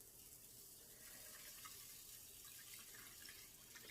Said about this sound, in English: So I'm just going to carefully put the water in